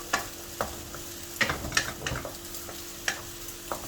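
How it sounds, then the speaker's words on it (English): Egg fried rice being stirred in a hot wok over high heat: scattered scraping and clattering strokes of the spatula at an irregular pace, over a faint steady sizzle, close and fairly quiet, with no talk. "just stir it up. Alright, make sure that your heat is always on high"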